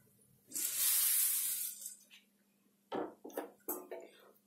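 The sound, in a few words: puffed rice (kheel) poured into pan of roasted spices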